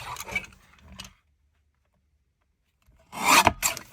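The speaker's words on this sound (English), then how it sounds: "what I'm not as keen on is the tatty edge, so I think we're going to have to trim that down a little bit" Trimming the worn, tatty edge of cardstock produces short close rasping scrapes, a burst of rubbing cuts, a silent pause of about two seconds, then another louder cluster of scraping strokes.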